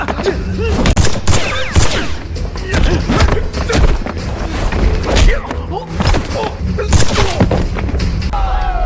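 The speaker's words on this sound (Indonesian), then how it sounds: "Situasi yang mencekam membuat Darong dan anggotanya yang masih hidup pun terpaksa kembali baku tembak dengan para musuh." A film gunfight fills the scene with dense, loud bursts of gunfire and booming impacts, sustained throughout, with a voice speaking over it.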